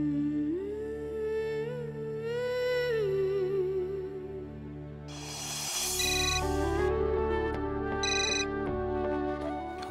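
A mobile phone ringtone plays for an incoming call, a loud melodic electronic tune with a steady repeating pattern over music, sounding alone for about ten seconds.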